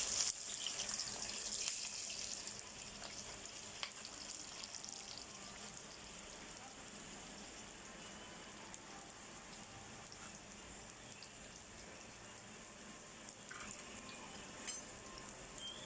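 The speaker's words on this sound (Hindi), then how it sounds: "अब हम फ्राई कर लेंगे अच्छी तरह।" Bitter gourd (karela) pieces frying in hot oil on a stove, a steady soft crackling sizzle that starts slightly louder and then settles into an even, moderately quiet hiss throughout.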